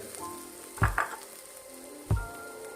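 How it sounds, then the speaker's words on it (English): Prawns sautéing in a pan for chilli garlic prawns: a steady, close sizzle with a few sharp spatula scrapes and knocks, two close together early and one more later. "Once this is sauteed nicely, until this is nicely done"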